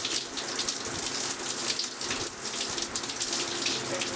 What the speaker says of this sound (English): So I'm going to rinse out the conditioner that I just applied to the first section,